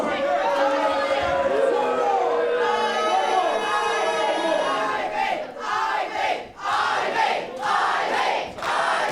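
A large crowd at a wrestling show roars and yells together, loud and sustained, with a few brief dips before the noise surges again.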